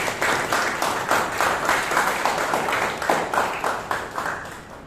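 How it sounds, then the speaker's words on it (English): Round of applause at a Toastmasters meeting, a moderate crowd clapping in quick irregular bursts that pulse steadily and trail off slightly toward the end. "Let's give the evaluator and our speaker big round of applause."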